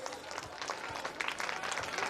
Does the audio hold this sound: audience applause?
yes